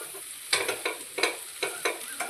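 Spoon stirring potato curry after coriander powder and a pinch of asafoetida go into the pan, a series of soft scraping strokes in an irregular rhythm with a faint sizzle beneath, close and fairly quiet.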